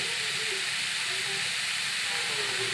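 Ridge gourd frying in a pan with egg for a Bengali bhaji, giving a continuous steamy hiss and sizzle that stays even and fairly loud for a few seconds.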